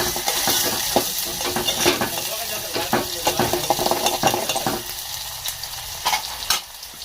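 Mustard seeds, cumin, chickpea greens and onion are frying in hot oil, with a steady close sizzle, crackling and scraping stir strokes throughout and no voices.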